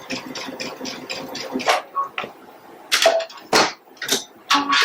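A sewing machine stitches a button onto a winter bench pillow, with a quick mechanical whirring run of stitches followed by several separate louder bursts and short pauses, close by.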